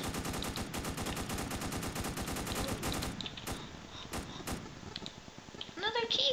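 Rapid automatic AK-47 fire in the Roblox video game, a fast, steady stream of shots that breaks into a few spaced single shots, with a person talking over the shooting.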